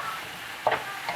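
Cut squash stirred in a cooking pan over heat, a soft sizzling hiss with a quick scrape or two of the spoon, brief and close.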